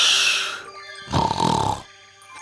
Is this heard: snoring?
yes